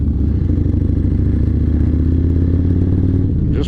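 A motorcycle engine running loudly and steadily close by with some mechanical clatter, during a group campout ride, continuous throughout with no clear stall.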